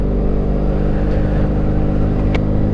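A BMW GS motorcycle with an aftermarket exhaust held steady at about 3,000 RPM, giving a loud, continuous low rumble with even harmonic drone and no talk.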